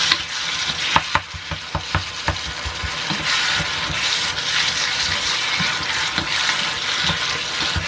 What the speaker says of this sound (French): Moi je cherche juste à les faire sauter, revenir